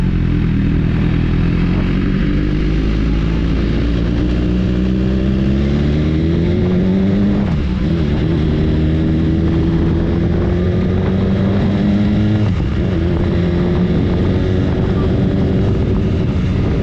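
A BMW S1000RR superbike pulls hard in first gear, its engine note climbing in loud, close, rising sweeps, dropping briefly at a shift-like break before surging again; no talking over it.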